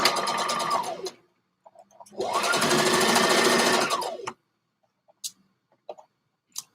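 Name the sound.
sewing machine stitching neck shoulder seam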